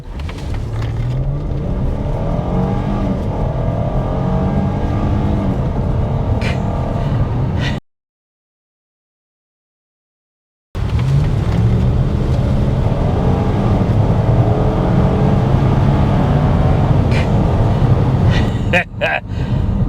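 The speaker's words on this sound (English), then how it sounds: "just a real quick, just a really quick little smash on the gas" A twin-turbo V8 in a Ford Taurus SHO is revved hard, a loud, close, sustained engine roar that breaks off for a few seconds of silence and then resumes at a similar level with a few light clicks near the end.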